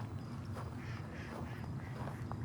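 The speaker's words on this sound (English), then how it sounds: "There are 2 of these Egyptian geese." Egyptian geese give faint, repeated honking calls as they fly off, against a soft outdoor background, somewhat distant.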